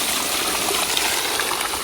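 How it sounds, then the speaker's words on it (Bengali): Freshly caught small fish, tangra among them, are rinsed in water, a continuous close splashing and trickling wash with no pauses. "আমাদের জলে ধুয়ে দেখায়।"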